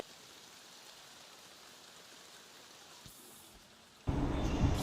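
Rain falling outside during a sudden monsoon shower, a steady soft hiss that swells abruptly into a much louder, closer downpour near the end, with no voices.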